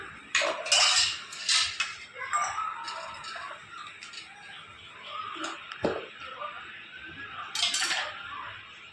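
Spoons clink and scrape against metal pots and bowls while potato masala for homemade pani puri is prepared, giving a series of close, irregular metallic knocks and rattles with quieter handling between.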